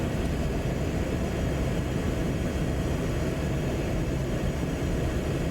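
A SEPECAT Jaguar jet's engines in MSFS 2024 give a steady, loud broadband roar that holds constant throughout, with no talking.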